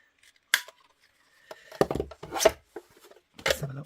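Scissors snip through paper for a mini journal: a sharp cut, a pause, then a run of close crunching snips and rustles of the sheet being handled, with no talk.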